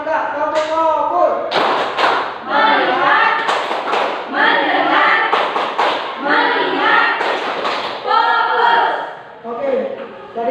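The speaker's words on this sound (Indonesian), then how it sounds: "Satu, dua, tiga, tepuk fokus." Schoolchildren in a classroom perform the tepuk fokus clapping routine, sharp rhythmic claps and thumps in quick patterned bursts alongside chanting voices.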